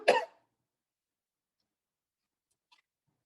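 A single short, sharp cough from a person sitting in front of a blowing fan, followed by near silence and one faint click.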